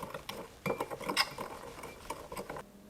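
Bananas being stirred with cinnamon and sugar, heard as a close run of light scraping and clinking from a utensil against a dish, uneven and without speech.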